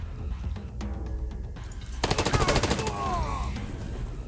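Gunshots in the turn-based video game Wasteland 3 fire as a rapid burst of sharp cracks after a quieter stretch of game sounds, followed by fading ringing tones.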